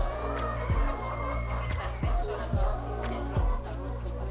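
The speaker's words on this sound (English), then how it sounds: "This where we have got the free range chicken." Free range chickens on a Kenyan farm cluck in a steady flock chatter, with a few louder calls every half second or so, while a person talks over them.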